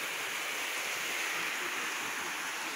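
Rushing water of the Sete Quedas waterfall in Brazil, a series of seven falls, makes a constant loud hiss and roar that stays steady without variation or voices.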